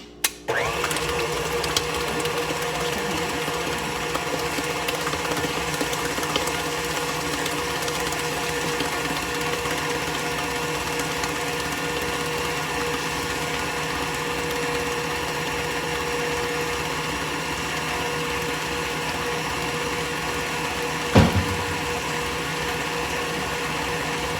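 An electric mixer beats cheesecake batter for mini cheesecakes, a steady, even motor whir with a sharp click at the start and a brief knock near the end, with no talking over it.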